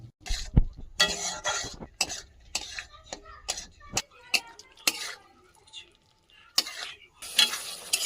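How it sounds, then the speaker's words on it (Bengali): A spoon stirs spices and sour yogurt in a pan over a low flame, with soft scraping and gentle sizzling broken by sharp clinks of utensil on metal, under faint background noise. "একদমই লো ফ্লেমে কিছুক্ষণ নাড়াচাড়া করে যতক্ষণ দইটা মিশে যাবে"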